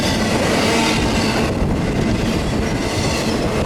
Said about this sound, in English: What kind of blasted train is this?